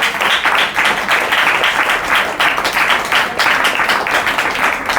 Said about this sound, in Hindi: ताली बजाओ अपने आप के लिए।